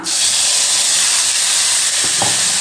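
A spice paste of ground onion and tomato hits a hot, tempered pan for a semolina tiffin, giving a loud, steady hiss and sizzle that runs unbroken throughout with no talking.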